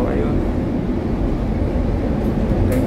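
Inside a moving Barcelona metro train, a steady low rumble and rolling hum fill the car, with a brief higher hiss near the end.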